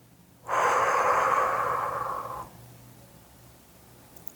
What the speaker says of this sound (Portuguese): e expira pela boca.